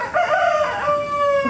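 A hen with her chicks foraging for feed lets out a loud, drawn-out chicken call that rises then holds a steady tone, close by and alone without talk.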